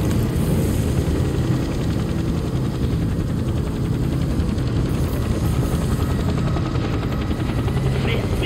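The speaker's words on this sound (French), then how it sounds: "L'hélico du GCPD a ouvert la voie." A GCPD police helicopter flies through a storm in a Gotham Knight animated short, its rotor throbbing as a steady, loud, close drone that holds unbroken for the whole stretch, with no talk over it.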